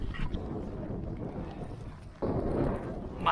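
Wind buffets the microphone in a low, rumbling roar that surges louder partway through, with water and sailboat noise underneath.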